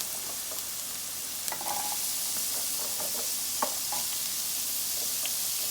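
Carrots are added to a vegetable soup pot and stirred, with scattered scraping and knocking clicks over a steady soft sizzle, close and moderately quiet.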